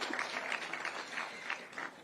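Light applause from a group of schoolchildren at a Nairobi tourism event, a soft, steady patter of small hands clapping at moderate distance for about two seconds.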